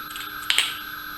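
A knife cuts through a cassava root at the middle, giving two short crisp cracking snaps close by in an otherwise quiet moment.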